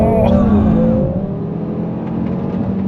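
An Audi RS 3 and an AMG A45 S accelerate hard side by side from 25 mph in a drag race, with a loud engine roar and a rising then shifting whine as the gearboxes change up.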